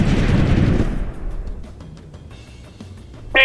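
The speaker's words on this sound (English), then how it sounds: "We got one. We're under heavy fire." Gunfire in the real-time strategy game Ground Control 2 opens with a loud, dense burst of shots, then fades into scattered distant pops and crackles, with a sharp synthetic tone at the end.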